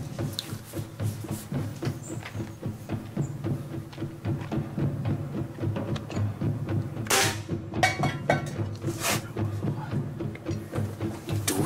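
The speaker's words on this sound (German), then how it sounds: "So, dritter Schuss." A Hämmerli Hunter Force 750 air rifle fires pointed pellets at a wooden block, giving two sharp, loud cracks in the latter half over a background of small clicks and handling noise.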